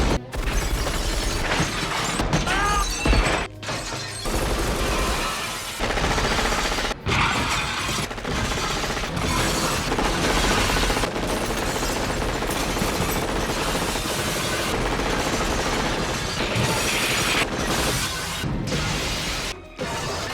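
Gunfire shatters glass in a Die Hard movie scene, a dense, loud run of crashing and splintering with sharp breaks, mechanical clatter and short drop-outs throughout.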